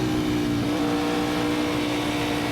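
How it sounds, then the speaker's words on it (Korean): A Ducati Panigale V4R superbike engine idles steadily nearby, a low, rough, continuous drone with a throbbing tone and no revving, alone without voices. "시동 버튼을 눌렀을 때 낮고 거친 숨소리 같은 엔진음이 들려옵니다."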